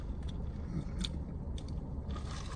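Someone bites into and chews thick-cut fat fries from a fast food order, a close, crunchy mouth sound with soft crackling bites over a steady background hum, no talking.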